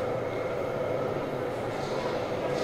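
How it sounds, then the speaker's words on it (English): A steady, continuous rumble and rolling hum fills the space aboard or beside a London train, with no distinct events rising above the drone. "here we catch another train again."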